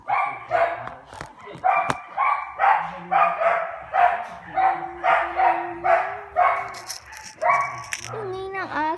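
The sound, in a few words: dog barking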